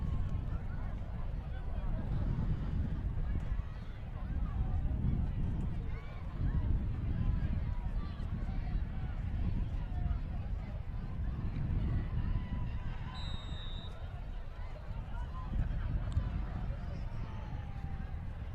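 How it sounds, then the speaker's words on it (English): Strong wind roars steadily across an outdoor high school varsity football field, a constant low rumble buffeting throughout with faint voices and crowd noise underneath. "That wind is whipping."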